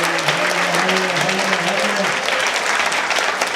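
An audience at a Marian convention claps in a dense, sustained round of applause, loud and close, while a voice speaks over the start of it.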